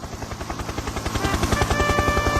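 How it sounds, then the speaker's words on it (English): Harold the helicopter from Thomas the Tank Engine arrives with a steady, rhythmic rotor chop that grows slightly louder and closer over a couple of seconds, heard alone without any voices. "Just then, Harold the helicopter arrived."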